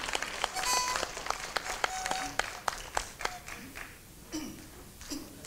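A crowd at a Hakka support rally in Taipei claps to welcome performers, scattered sharp hand claps that thin out and grow sparse after a few seconds.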